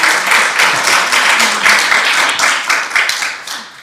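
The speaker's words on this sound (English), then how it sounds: "We can give them a round of applause" An audience at a Brussels panel event on network fees claps for the panelists, loud close applause with distinct claps, fading slightly toward the end.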